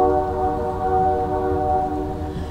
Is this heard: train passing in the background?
yes